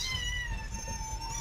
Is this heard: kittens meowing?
yes